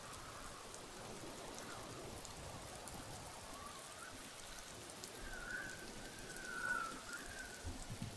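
Rain falls steadily in Warhammer: Vermintide 2 as a faint, continuous hiss of drops with no talking.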